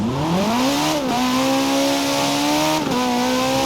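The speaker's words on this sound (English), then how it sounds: "Okay, now I'm driving a Ferrari. Let's hear the sound of this." A high-revving Ferrari engine in Forza Horizon 5, climbing through the revs with two quick gear shifts, loud and continuous.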